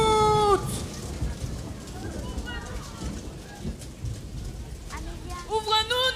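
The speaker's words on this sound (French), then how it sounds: "Cela fait des jours qu'il pleut." Heavy rain falls steadily throughout as a broad hiss, while several voices cry out and sing over it in a dramatic scene of a flood.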